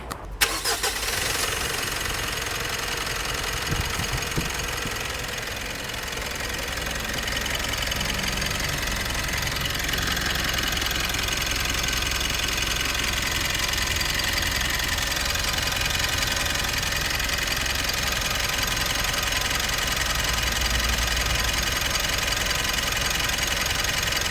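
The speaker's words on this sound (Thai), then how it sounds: "ฟังเสียงเครื่องยนต์กันหน่อย" A 2019 Mitsubishi Pajero 2.4 GT Premium 4WD engine cranks and fires up, then settles into a steady, close idle that runs continuously without talk.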